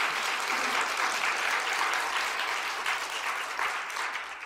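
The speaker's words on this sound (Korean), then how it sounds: "모두 박수로 환영을 드리겠습니다." A small church congregation in Korea claps in welcome. The applause is a continuous, moderately loud patter that eases slightly toward the end.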